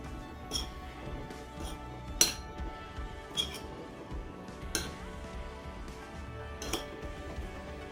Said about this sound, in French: je vais tout mélanger pour être sûr de bien répartir les épices partout